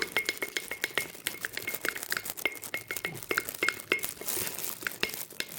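Shampoo hair dye being stirred in a bowl, a busy run of close clinking, tapping and crinkly scraping strokes, quick and uneven, with no voices.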